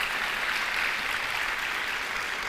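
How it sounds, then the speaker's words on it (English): A crowd at the North Edgecombe High School 2022 graduation ceremony gives a round of applause. The clapping is steady and dense, an even wash of sound at moderate distance with no speech over it. "Let's give them a round of applause."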